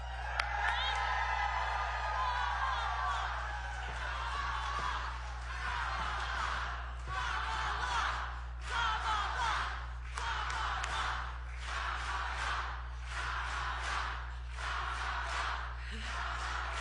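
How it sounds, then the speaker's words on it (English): An audience at a border event rhythmically stomping and clapping in steady repeated waves, cheers and whoops rising over it, with a loud low hum running constantly underneath. "So on your feet, ladies and gentlemen, stop the floor, clap your hands."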